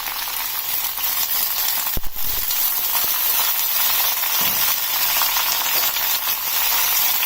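Brinjal and mixed vegetables for a Santula dry dish frying in oil, giving a steady, loud, close sizzle with a couple of soft stirring knocks against the pan.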